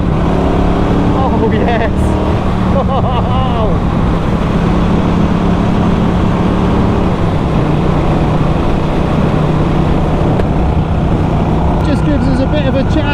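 A Norton Commando 961 SP motorcycle with a 5-speed gearbox pulls hard along a country road, a loud continuous engine drone with wind rush, rising through gears, while the rider talks over it.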